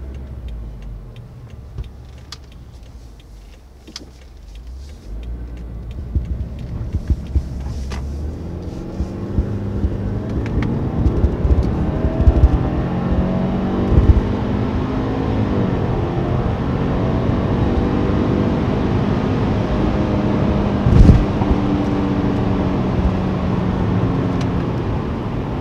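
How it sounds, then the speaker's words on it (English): A Subaru WRX fitted with soundproofing accelerates hard from inside the cabin, engine note rising steadily through the gears with a turbo spooling under a building rumble, heard alone without talk. "I'm gonna accelerate kind of hard, and then so maybe you'll be able to hear what the engine sounds like now, and maybe even hear the turbo spooling up."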